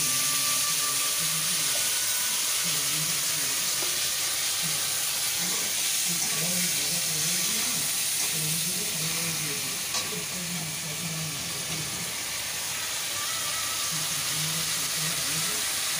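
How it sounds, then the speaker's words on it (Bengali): Potatoes frying in hot oil with cumin seeds and bay leaf, a loud, continuous sizzle and hiss with faint scraping stirs throughout. "সেই তেলের মধ্যেই একটু সাদা জিরে দিয়ে দিলাম আর তেজপাতা দিয়ে দিচ্ছি। এবার আমি এই আলুগুলোও দিয়ে দিলাম।"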